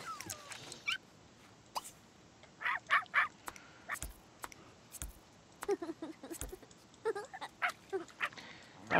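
Dogs in The Sims 3 video game whimper, yip and bark in short bursts, scattered irregularly over a quiet game background with several clustered sharp yelps.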